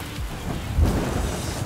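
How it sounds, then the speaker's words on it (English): Library rain and thunderstorm effect: steady heavy rain hisses on surfaces while a low rumble of thunder swells midway, dense and close with no voices. "you just want to make it rain."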